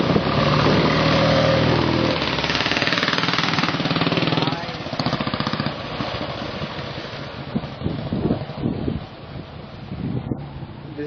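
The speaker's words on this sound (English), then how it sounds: "Loud exhaust." Loud, continuous engine and exhaust roar from a Royal Enfield motorcycle at a vintage and classic car rally, steady and close at first, then dropping slightly and turning choppier with bursts toward the end.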